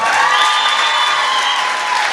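An audience at a concert in Aktau, 2011, fills the hall with dense, steady applause that holds at an even level from start to finish, with a faint sustained tone beneath it.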